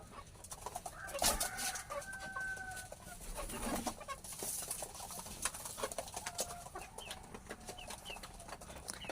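A chicken kept among pet pigeons clucks in short, faint bursts against a quiet, hissy background, with occasional soft bird calls and no talking.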